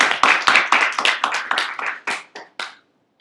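Sparse clapping from a small audience, a dozen or so distinct, fairly close claps in an uneven rhythm that thin out and stop, leaving silence at the end.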